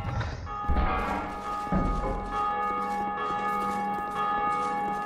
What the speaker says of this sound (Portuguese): entre nessa torre e puxe a alavanca para tocar o sino